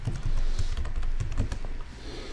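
Rapid, close clatter of computer keyboard keys as a username and password are typed in, a quick uneven run of clicks with no talking.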